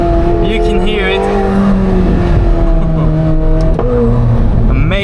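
A McLaren 750S twin-turbo V8 drones loudly at close range, its pitch stepping down through several quick downshifts with small pops, while a voice talks over the engine.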